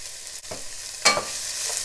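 Green chili, ginger and onion sizzle and get stirred in a pan, a steady frying hiss with a sharper scrape of the spatula midway.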